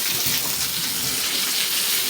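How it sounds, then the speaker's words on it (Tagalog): A garden hose nozzle pressed to spray water under pressure for cleaning produces a steady, loud, close hiss and rush of water that runs unbroken throughout, with no talk. "Para may pressure yung tubig."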